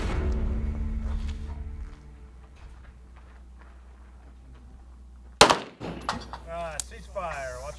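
A single sharp gunshot at a steel target during a Prairie Fire shooting competition cracks out after a quiet stretch, followed by a person talking.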